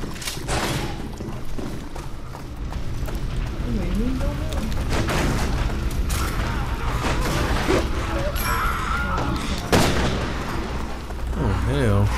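Gunshots in Resident Evil 6 during a city escape, loud sharp reports and thuds amid crashing game action, with people talking over the noise.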